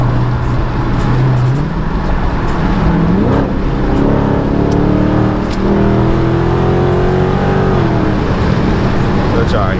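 A car engine and exhaust with a mid muffler delete, driven in a snowstorm, drone loudly with rising and falling revs heard from inside the cabin, while someone talks over it.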